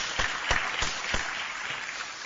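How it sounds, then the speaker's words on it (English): Conference audience in Brussels applauding a speaker named Bertrand: sustained clapping from a seated crowd, with a few louder individual claps standing out near the start. "On peut applaudir Bertrand."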